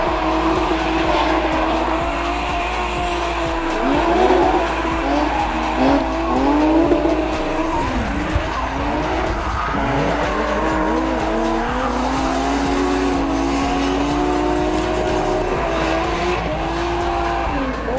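A drift car makes its competition run at a French drift championship, the engine roaring loud and steady with long, continuous tire squeal and skidding throughout, no talk over it.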